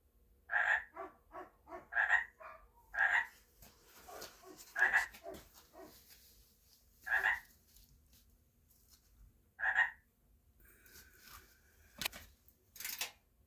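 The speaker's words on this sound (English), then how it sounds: "It's nice to hear the frogs." Spring frog calls ring out near a greenhouse, a quick run of rhythmic croaks at first, then single loud croaks spaced a few seconds apart, close and clear over a quiet background with faint noise near the end.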